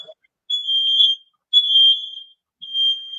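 A household smoke alarm keeps going off in three shrill, sustained beeps, each close to a second long with short gaps between them, loud against an otherwise quiet room.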